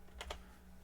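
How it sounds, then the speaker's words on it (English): Two quick keystrokes on a computer keyboard while a streaming handle is entered, faint and close over a low steady hum, with no one speaking. "I'm just gonna type in my Twitch handle"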